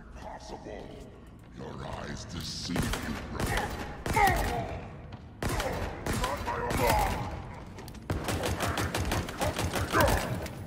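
Rapid weapon fire from the Halo Infinite campaign: sharp repeated gunshot bursts and quick automatic volleys, loud and close, with a fast machine-gun rattle near the end and voices chatting over the action.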